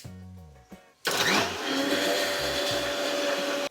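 Electric mixer grinder blending a chikku shake, starting after a short pause with low whirring and a click, then kicking into a loud, steady high-pitched whine that runs continuously, close by.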